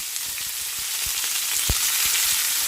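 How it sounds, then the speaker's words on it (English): Vegetables with seasoning frying in a very hot pan, giving a loud, continuous close-up sizzle with scattered pops and a few soft stirring knocks throughout. "Add all my veg in. Put all my seasoning in."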